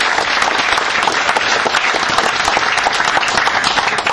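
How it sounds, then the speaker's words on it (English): Sustained applause from a crowd, dense and steady clapping throughout without a break. "a round of applause for all of the landowners"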